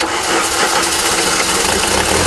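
VW diesel car engine running just after starting, following a cylinder head replacement, a loud, close, rough clatter that holds steady throughout.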